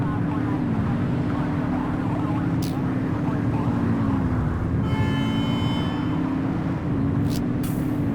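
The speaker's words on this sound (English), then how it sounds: "Get behind them and flip the siren to make them pull over." A police car siren in a police video game sounds steadily through the clip, a wailing tone rising and falling under a constant engine rumble, with voices speaking over it and brief radio-like chirps.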